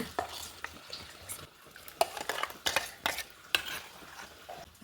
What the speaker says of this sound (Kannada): ಚೂರು ಬೆಲ್ಲ, ರುಚಿ ತಕ್ಕಷ್ಟು ಉಪ್ಪು, ಒಂದು ಸರಿ ಮಿಕ್ಸ್ ಮಾಡ್ಕೊಂಬ